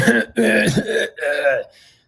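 A person coughs and clears their throat after eating chips, several rough, close bursts in quick succession with short pauses between.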